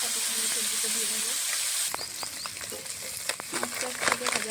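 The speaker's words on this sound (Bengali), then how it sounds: "মাছটা ভাজা সাথে সঙ্গে সবজিটা দিয়ে দেবো।" Small fish frying in hot oil with Malabar spinach: a steady bright hiss that breaks after a couple of seconds into scattered pops and crackles, close and moderately loud, with no one talking.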